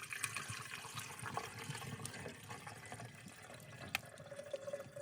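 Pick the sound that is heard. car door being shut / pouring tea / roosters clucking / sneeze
pouring tea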